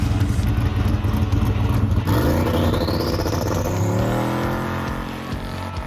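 A Ford Falcon race car launches at full throttle without short shifting, its loud, close engine note climbing steadily in pitch as it pulls hard, then easing slightly near the end.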